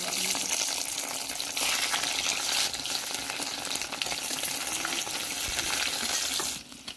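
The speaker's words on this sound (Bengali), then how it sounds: "এরপর আমি ডিম সয়াবিন ভাপাগুলোকে ভেজে নেব।" Steamed egg and soybean cakes fry in hot oil in a wok, giving a steady, dense sizzle with faint stirring scrapes, no talking, ending abruptly.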